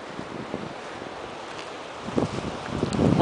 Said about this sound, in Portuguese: O mar hoje tá super agitado.